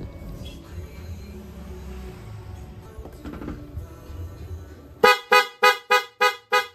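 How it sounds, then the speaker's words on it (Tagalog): Aftermarket loud horn on a Honda Click scooter, six sharp, loud blasts in quick succession, following a stretch of quieter mechanical rattling and handling noise. "Yan yung ating loud horn"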